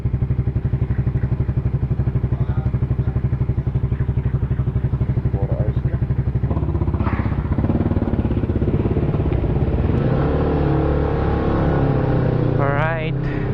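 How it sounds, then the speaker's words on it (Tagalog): Three motorcycles setting off on a group ride toward Dingalan, Aurora, their engines chugging steadily and loud throughout, with the note shifting as they pull away and a voice briefly audible near the end. "Take off na kami. Tatlong motor lang kami mga tol."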